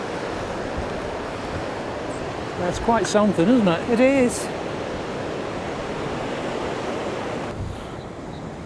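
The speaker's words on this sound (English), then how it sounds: "look at those waves" Ocean surf rolls onto a shore in a steady, wide wash of wave noise mixed with wind buffeting the microphone, while people talk briefly partway through.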